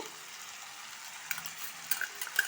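Coriander stems fry in a pan for an Indian-style chicken stew, a faint soft sizzle with a few light stirring scrapes and taps toward the end, no talking.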